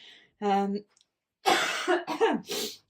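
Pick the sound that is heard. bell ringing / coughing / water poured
coughing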